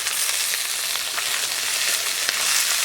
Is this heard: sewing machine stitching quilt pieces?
no